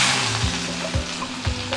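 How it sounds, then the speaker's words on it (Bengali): Onion sizzles steadily in hot oil in a pan, with a spatula stirring in short regular scrapes about every half second. "পেঁয়াজটাকে একটু ভেজে নেবো।"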